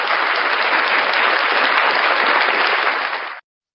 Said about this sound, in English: Round of applause for the combat.